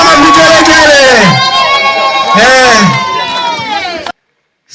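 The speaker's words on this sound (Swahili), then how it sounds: "Shangwe na vigelegele jamani, wakina mama vigelegele." A large crowd at an outdoor political rally in Tanganyika district cheers loudly, with high wavering ululation from women rising in two long swells before cutting off abruptly.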